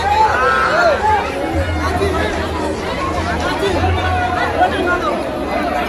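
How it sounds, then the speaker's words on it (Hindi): A large crowd of devotees leaves the Banke Bihari temple in Vrindavan, with dense, continuous chatter and hubbub from many voices close by and someone talking over the noise. "आप देख सकते हैं कितनी भीड़ है आज"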